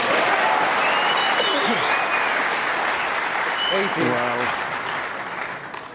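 A large snooker crowd at the 2017 World Championship final applauds a shot with loud, sustained clapping that fades slightly toward the end, while a commentator speaks over it.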